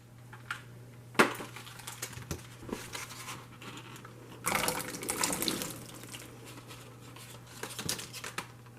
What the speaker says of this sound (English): I'm going to put them in a bowl with some water and put this in it